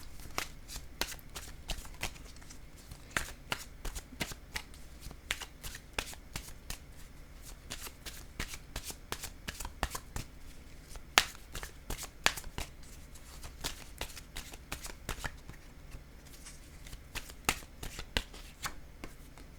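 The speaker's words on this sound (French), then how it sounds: "je vais piger une carte, un message de l'univers" Oracle cards being shuffled by hand, a long run of crisp, rapid riffling flicks and slaps close up, steady and unbroken for the whole stretch with no talking.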